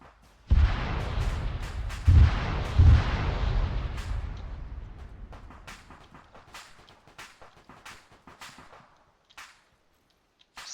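Several heavy explosions from Arma 3 with Iron Front era weapons boom loudly in quick succession near the start, then long rumbling decay and scattered fainter distant blasts and cracks.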